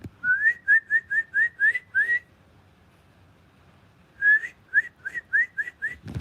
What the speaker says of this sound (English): I can't whistle well.